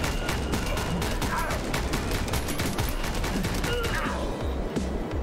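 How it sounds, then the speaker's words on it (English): Dense, continuous gunfire in a John Wick commute simulator video game, rapid overlapping shots forming a loud, relentless fusillade that barely lets up. "I really cannot shoot fast enough."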